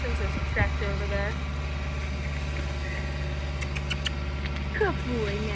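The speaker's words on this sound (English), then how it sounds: "There's a tractor over there." A tractor engine runs somewhere off in the distance, a steady low idling hum under a person's voice and whistle-like calls outdoors.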